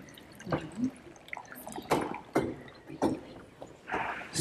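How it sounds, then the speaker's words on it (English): Water is poured into a baptismal font in a church during a baptism service, giving a series of splashy drips and gurgling bursts, close and moderately loud. "Now we're going to put the water here."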